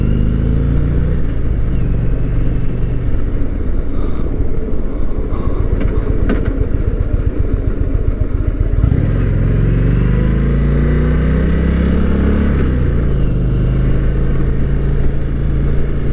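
A big Indian motorcycle cruises on an open road, its engine rumbling low and loud close up, with wind noise and a shift in pitch as the bike accelerates partway through.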